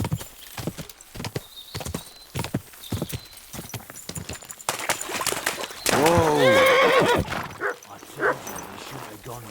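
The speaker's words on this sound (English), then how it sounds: "These damned horses, they got spooked in the forest" Spooked horses in Kingdom Come Deliverance 2 whinny loudly near the end, after a run of hoof clip-clops mixed with a barking dog, and voices talk throughout.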